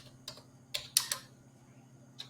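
A few keys tapped on a computer keyboard while entering a command in a terminal, several quick close clicks grouped together with short gaps between them, quiet and without talk.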